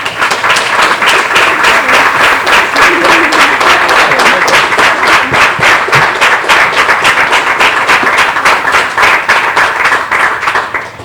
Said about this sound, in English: they deserve a second round of applause